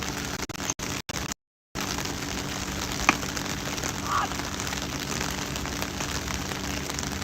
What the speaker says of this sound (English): The rain is getting to be heavier, but still there is no call from umpire.